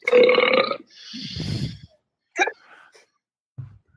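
A man forces out an exaggerated, drawn-out burp in imitation of the Rick and Morty cartoon belch, followed by breathy vocal noises and brief sounds.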